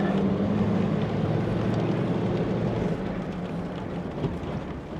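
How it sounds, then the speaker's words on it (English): Rain shower hitting a vehicle on an off-road trail near Moab, Utah, a steady broadband wash of drops with low rumble, fairly loud and continuous, easing slightly toward the end. "Oh man, more rain than I anticipated."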